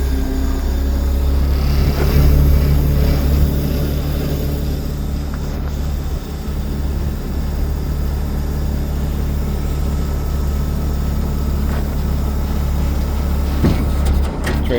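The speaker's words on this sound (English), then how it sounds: "Trailer gets all the way down." A Talbert trailer hitched to a Peterbilt 389 lowers all the way down with a steady, loud hydraulic and engine drone, unbroken for about fifteen seconds and heard without talk.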